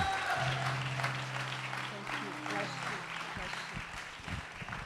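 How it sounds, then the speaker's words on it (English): Audience applause welcomes someone speaker to the stage at an event in Maui, a broad steady wash of clapping with voices mixed in and a low sustained tone underneath, fading slightly toward the end. "I want you to give her a big round of applause"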